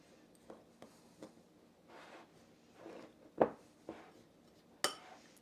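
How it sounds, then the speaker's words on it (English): Flour, brown sugar and vanilla are being mixed in a bowl with a utensil, giving soft scrapes and light clinks at irregular intervals, quiet and close, with no voices. "Dump the flour in that and just give it a light mix together."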